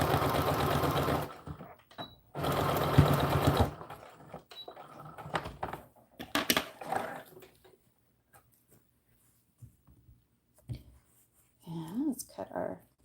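A sewing machine runs in two short loud bursts stitching pleats on an American Girl doll dress, followed by quieter handling clicks and thread noises, with someone talking between.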